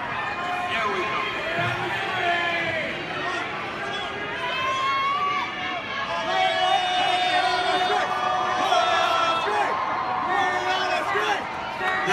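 Large Comic-Con crowd in Hall H at a 20th Century Fox panel, a loud continuous roar of clapping, cheering and whoops that fills the room throughout, with voices chattering inside the din.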